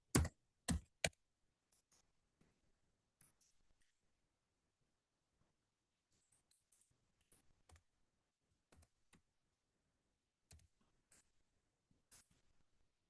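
Keys on a computer keyboard are struck while a password is entered. A few loud close clicks open the passage, then sparse, faint taps follow with long quiet gaps between them.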